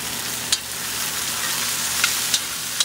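Chicken and broccoli stir-frying in a pan with a tangy sauce, a steady close sizzle and hiss with a few sharp clicks of a utensil against the pan.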